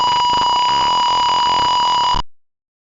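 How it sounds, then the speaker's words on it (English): An Arduino piezo buzzer in a Tinkercad seat belt warning simulation sounds a steady, loud electronic tone for about two seconds alone, then cuts off abruptly. "So the buzzer and LED turns on."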